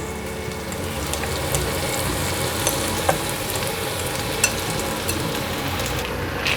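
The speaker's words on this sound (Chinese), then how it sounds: "铺平后让它慢慢的煎" Batter mixed with black sesame fries in a lightly oiled pan, giving a close, steady hissing sizzle with faint scattered pops and ticks throughout and no voices.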